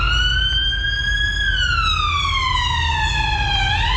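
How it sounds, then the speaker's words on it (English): An undercover police car's siren wails as it drives past on an abandoned street, a loud, close rising-and-falling tone sweeping steadily up then down over low road rumble, with no talk. "Undercover police car driving past."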